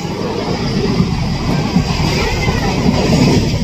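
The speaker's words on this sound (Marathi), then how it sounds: "ट्रेन सुटले पुणा स्टेशनवरून." A passenger train pulls out of Pune station, its continuous rumble and rolling rail noise steady and fairly loud throughout, with no distinct clacks standing out.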